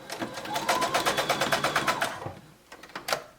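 A sewing machine stitches elastic down at the side seams of homemade PJ shorts, a close, rapid rhythmic run of needle strokes for about two seconds, then a pause and a couple of brief short bursts.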